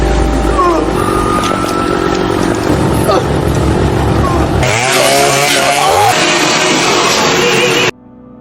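A loud chainsaw engine roars and revs continuously in the film Terrifier 3, with shouting voices mixed in, before cutting off abruptly near the end.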